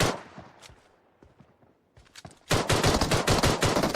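Rapid bursts of gunfire in a shooter video game, a few sparse shots first, then a loud dense volley of sharp cracks from midway on, with no talk.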